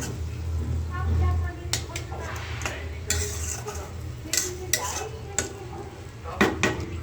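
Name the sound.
folui fish being fried and stirred in a pan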